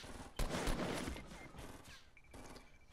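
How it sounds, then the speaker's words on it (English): Rapid bursts of gunfire crackle loud and close in a Fortnite battle royale match, a dense fusillade early on that thins into scattered shots, with no voices over it. "Getting shot. I don't know where I'm getting shot from."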